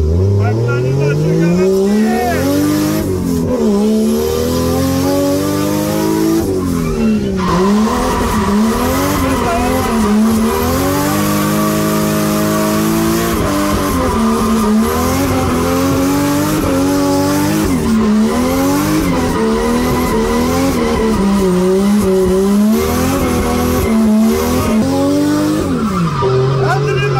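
Car drifting with a professional driver, engine revving and falling in long sweeping waves while tires squeal and burn rubber almost without pause, loud and close, with voices talking over it.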